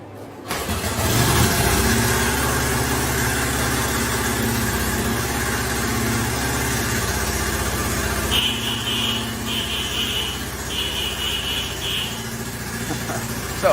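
A vintage Honda motorcycle engine starts and runs steadily at idle, a loud continuous low rumble throughout, with a few brief high-pitched chirps partway through.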